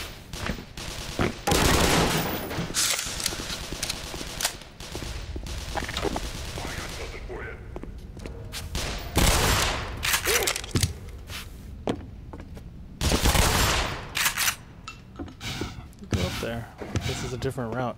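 Shotgun firing in the game Black Mesa, a series of loud, sharp blasts in clusters amid busy combat noise and footsteps, with someone talking over parts of it.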